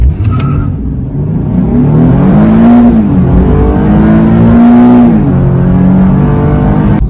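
A Nissan 370Z in sport mode accelerates hard on a 0-60 run, its engine droning loudly and rising in pitch through gear changes, close and continuous.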